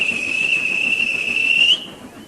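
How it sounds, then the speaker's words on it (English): A railway guard gives one long, shrill, steady whistle blast close by at a station platform, cutting off sharply into quiet hiss. "At last, the guard blew his whistle."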